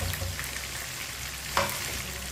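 Chopped garlic fries in a pan while making aloo baingan sabzi, giving a steady, close crackling sizzle with one sharp clink of a utensil partway through.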